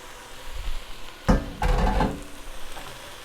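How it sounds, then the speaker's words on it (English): Beans and potatoes drop into a soup pot with two sharp clattering thuds, followed by a short scraping shuffle, close-up, without any talk. "now we're throwing everything in the pot"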